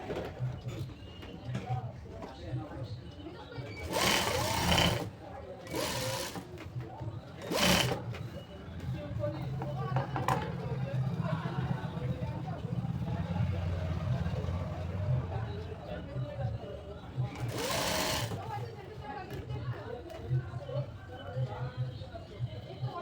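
A sewing machine stitches fabric and stiff canvas for a designer kurti neckline, running in a few short, close whirring bursts between pauses while someone talks throughout.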